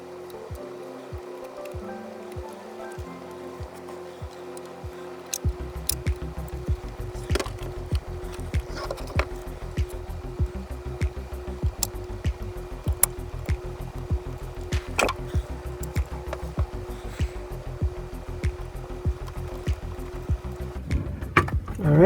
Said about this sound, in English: I'm gonna secure it with the screws